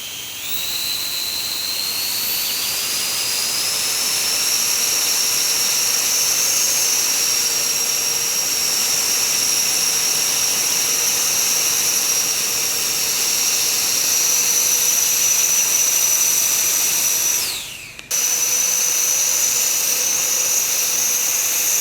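Ducted fan motors on a 3D printed EDF drone whine steadily at high pitch with a rising tone early on, holding loud and constant, then cutting out briefly near the end before resuming.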